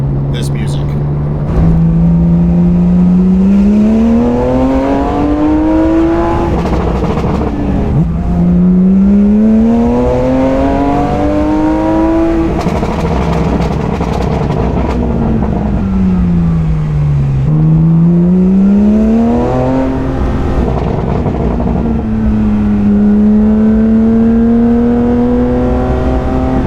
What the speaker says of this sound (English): obviously is just the way that GT3 engine sounds